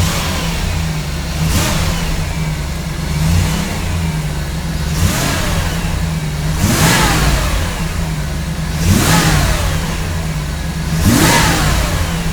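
A Firebird TPI engine revs as the gas pedal is pushed, rising in about six repeated surges over a steady idle rumble. The engine is close and loud, with no talking.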